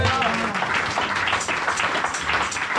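A church congregation bursts into loud, dense applause during a sermon, sustained clapping filling the room throughout, with voices mixed in.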